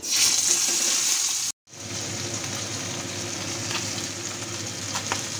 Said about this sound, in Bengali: এখন এক এক করে মাছগুলো ছাড়বো, সাবধানে ছাড়তে হবে, আঁশ ছাড়া মাছ।